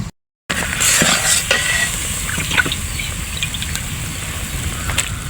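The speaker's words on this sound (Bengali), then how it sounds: "আগে হচ্ছে মাছটা আমি একটু কষাইয়া নেবো" Mixed fish sautéing in a pan, a steady close sizzle with occasional stirring scrapes and faint clinks, continuing without pause after a short silent moment at the start.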